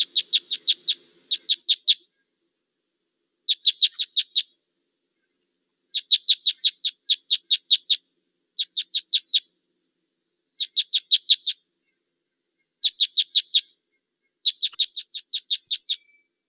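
A finch gives short, dry, quick descending call notes in rapid bursts of four to eight, repeated in clean groups with brief pauses between, close and clear against silence.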